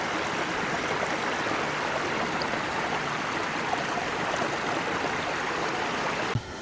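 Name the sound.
mountain stream Rossett Ghyll flowing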